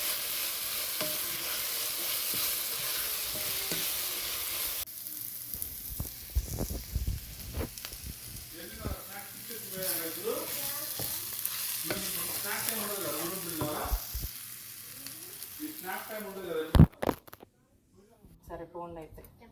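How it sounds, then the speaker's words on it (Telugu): Boiled, squeezed bitter gourd pieces fry in a pan for curry, a bright hiss giving way to scraping stirs and bubbling sizzle, with someone talking over the cooking before a clatter near the end. "బాయిల్ చేసి వాటర్ స్క్వీజ్ చేసి ఉంచిన కాకరకాయ ముక్కలు వేసుకున్నానండి ఇందులోకి."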